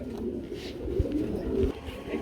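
Low, soft pigeon cooing repeats through the clip at a pigeon market, close by, with faint background murmur and no clear speech.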